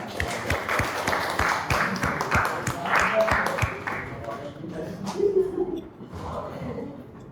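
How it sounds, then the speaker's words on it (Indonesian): Classroom applause for a presenting student group during a broadcasting and film teacher competency assessment, a burst of dense clapping that thins out over several seconds amid chatter and background talk. "Beri tepuk tangan untuk kelompok 3."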